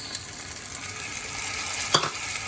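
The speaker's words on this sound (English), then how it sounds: "Now I am adding the tomatoes." Tomatoes frying in a kadai of misal masala are stirred, giving a soft, steady sizzle with a brief scrape of the spoon partway through, fairly quiet and with no voices.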